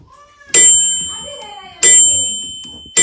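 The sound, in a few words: microwave oven timer bell ringing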